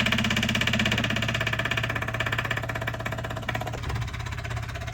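A diesel fuel polishing pump runs steadily, drawing leftover diesel out of a tank with a constant low mechanical hum and faint rhythmic pulsing, close and continuous with no talk.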